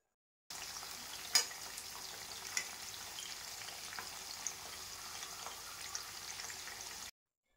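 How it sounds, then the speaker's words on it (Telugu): Bitter gourd pieces frying in oil on high heat for a pickle, a soft, even sizzle with occasional faint pops and clicks, fairly quiet and steady throughout, with no talking. "ఇవి బాగా కలర్ మారేంత వరకు ఫ్రై చేసుకోవాలి"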